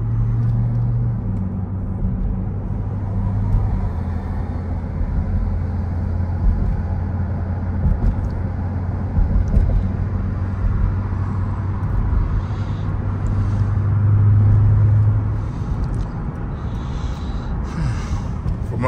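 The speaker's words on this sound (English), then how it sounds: "Oh, man, the traffic, it just don't stop." Continuous road traffic roars past up close on a busy commuter road, with steady low engine rumble and tire noise that swells and fades as vehicles pass, including trucks, loud and unbroken throughout with no talking.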